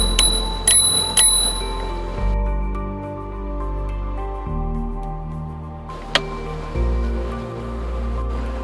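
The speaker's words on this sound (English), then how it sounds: "The brake and the bell is on your left handlebar." Handlebar bell on a Mankeel Silver Wings electric scooter, struck three quick times at the start and once more later, each bright ring trailing off, with a low humming tone underneath.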